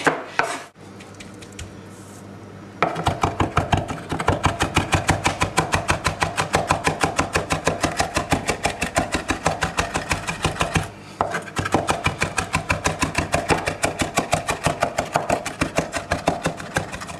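A knife chops parsley and garlic on a board for parsley butter, fast rhythmic close-up knocks in a long steady run with one brief pause.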